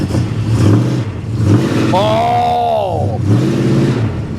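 A 1973 Plymouth Scamp flood car's engine revs up and drops back in one loud, rising and falling sweep, with people talking and exclaiming over the running motor.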